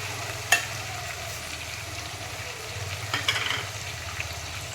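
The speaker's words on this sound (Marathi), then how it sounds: "ही प्युरी आपल्याला कांदा व टोमॅटो तेल बाहेर सुटेपर्यंत परतायची आहे" Onion and tomato puree sizzles and fries in oil in a pan for a crab masala curry, a soft continuous crackle close by, with a few sharp clinks and stirring scrapes.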